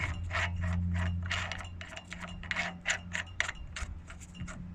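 A brake piston rewind tool is wound out by hand during a Mazda 3 brake pad change, giving a rapid series of close, light ratcheting clicks with a faint hum underneath.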